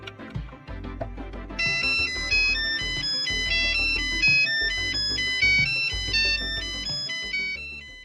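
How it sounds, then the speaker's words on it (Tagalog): A personalized mobile phone ringtone plays a bright, repeating electronic melody. Beeping notes join a low beat and keep going steadily for several seconds. It sounds close and loud, and nobody talks over it. "ang personalized ringtones"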